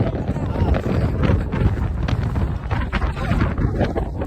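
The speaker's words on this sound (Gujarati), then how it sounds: "કેટલો અવાજ, કેટલો બધો પવન છે" Strong wind on Girnar mountain in Gujarat buffets the microphone in a loud, constant roar, with gusty swells throughout.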